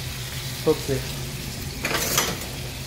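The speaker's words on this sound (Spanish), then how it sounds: "Se va rompiendo la carne, se va friendo." Ground pork, veal and beef fry in a pan for bolognese sauce, a soft continuous sizzle with a few brief stirring scrapes, while a voice speaks briefly over it.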